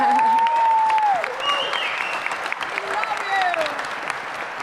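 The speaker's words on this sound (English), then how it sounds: "you guys all are clapping" Applause from a hacker conference audience at DEFCON 20, a thick continuous roar of clapping with whoops and cheers layered over it, strongest at the start then settling.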